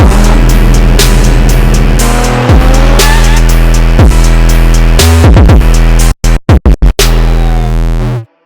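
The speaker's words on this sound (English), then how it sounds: "I'm gonna back the race car into the garage right now" A race car engine roars loudly and up close as the car is backed into a garage, with sustained revving, pitch shifts and tire noise, then a few abrupt cutouts and bursts before it settles again.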